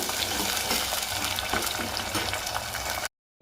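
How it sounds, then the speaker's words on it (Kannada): Sliced onions fry in a pan for an avalakki chitranna, a steady close sizzle with a few scraping stirs. The sound runs for about three seconds, breaks off into silence and then briefly returns. "ಈರುಳ್ಳಿನ ಚೆನ್ನಾಗಿ ಫ್ರೈ ಮಾಡಬೇಕು ಹಸಿ ವಾಸನೆ ಹೋಗೋವರೆಗೂ"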